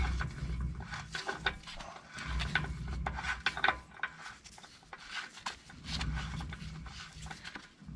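Front axle hub on a Chevy K10/K20 truck being spun and tightened by hand, giving close, repeated rubbing and rasping mechanical sounds with faint clicks in uneven bursts throughout.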